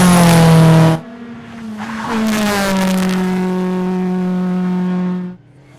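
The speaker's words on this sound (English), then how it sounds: "Despite putting in enough effort to get their Subaru airborne, Murray Lloyd and Ralph Lehman only managed" A Subaru rally car on a tarmac rally stage roars close by with a loud, sustained engine drone. The pitch shifts near the start and the sound fades away at the end.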